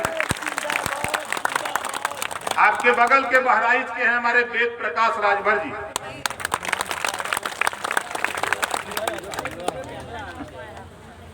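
Crowd at a political rally in Uttar Pradesh breaking into brisk clapping, dense and fairly close, rising then tapering off, while someone speaks through a loudspeaker over and between the applause.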